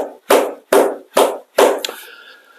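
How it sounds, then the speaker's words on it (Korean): A single person claps their hands four times in a slow, even rhythm, each clap loud and close, followed by a brief softer clatter and a faint ringing tone. "지금까지 보는 사람은 정말 제가 박수 쳐드릴게요."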